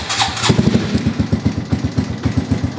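A Honda Grom motorcycle engine cranks and catches, then runs roughly with an uneven, loping pulse, close and fairly loud.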